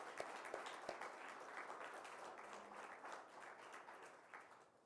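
Audience at a scholarship celebration applauds alumni with sustained, dense clapping from a crowd, steady throughout and tapering slightly toward the end, with faint voices underneath.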